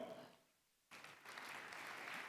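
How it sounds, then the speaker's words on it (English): Applause at a Kenyan diplomatic anniversary celebration honouring posthumous recipients, heard briefly, then a short lull before a dense, steady wash of clapping resumes and continues at moderate level. "A great round of applause for him."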